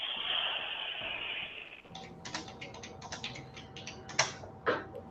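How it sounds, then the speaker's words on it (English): Close, clicky keystrokes on a computer keyboard in irregular bursts, with a couple of louder taps near the end, following a brief stretch of hiss. "Hopefully you're not hearing my typing today."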